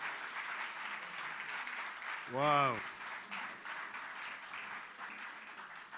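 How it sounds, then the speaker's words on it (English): A civil society forum audience keeps up steady applause for the President. Continuous crowd clapping runs beneath one brief exclaimed word from a nearby voice. "Another round of applause, please, for Mr. President."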